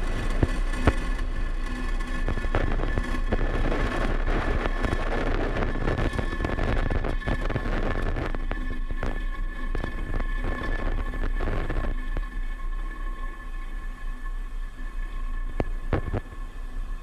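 Falcon 9 rocket lifting off for the Space Development Agency's Tranche 0 mission with engines at full power, a continuous loud rumbling roar with crackle that holds steady and eases slightly later on.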